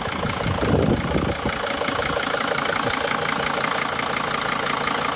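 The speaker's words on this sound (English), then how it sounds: "It's idling pretty well for a van with this many miles on it." A high-mileage T1N Sprinter van engine idles steadily nearby, a continuous mid-low rumble that swells briefly at the start, then settles into an even hum.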